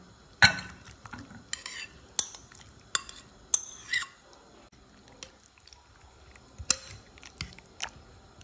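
Softened zucchini and onions stirred into eggs for a microwave frittata, a spoon or fork clinking and scraping against a bowl in a series of sharp, scattered taps with wet mixing between, close and fairly quiet.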